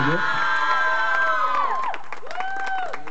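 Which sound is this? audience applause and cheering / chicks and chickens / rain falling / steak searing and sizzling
audience applause and cheering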